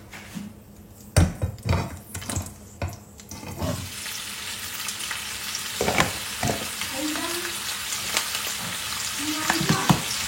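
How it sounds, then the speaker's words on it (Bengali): Minced meat frying in a pan with cardamom, bay leaves and ginger-garlic paste; a few sharp utensil knocks open, then a continuous sizzle with intermittent stirring scrapes and clinks. "তার আগে কিমাটা আগে একটু হালকা ভেজে নিব"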